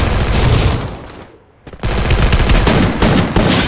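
Loud, rapid gunfire from a video game shooter match in a custom room, with dense continuous bursts that drop away briefly midway before resuming at full intensity.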